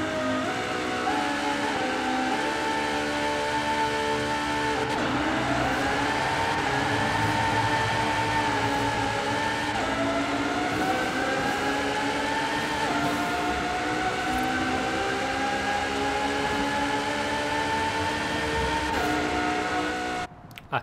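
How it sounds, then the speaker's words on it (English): A high-revving Ferrari FXX engine in Forza Horizon 4, a loud sustained tonal whine rising and shifting in pitch through the gears, continuous and close. "There's something about this car sound that just sounds good."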